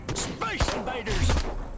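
Gunfire in Destroy All Humans, with bursts of shots aimed at the player's character, rattling under busy game effects and alien weapon noise across a short stretch.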